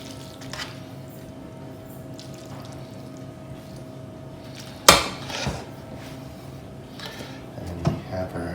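Macaroni and cheese is spooned out of a pot: soft scraping and a sharp metallic clank of spoon against cookware, followed by squishy plops and further clinks, moderately close against a quiet kitchen background.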